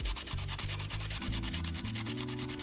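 Close, continuous sanding across the surface of an amethyst-style resin geode coaster, a rapid rhythmic rasping scrub with no pauses and no voices.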